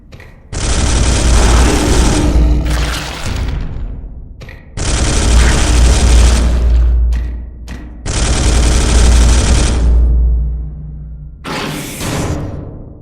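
Bolter gunfire in the video game Space Hulk: three long, loud bursts of rapid automatic fire, each a few seconds long with short gaps between, followed by a final shorter burst.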